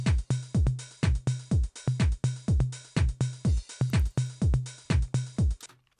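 Programmed drum beat in Ableton Live 12 with a tom swapped into the drum rack; punchy, evenly spaced kick-and-tom hits repeat in a tight loop, loud and alone, then stop.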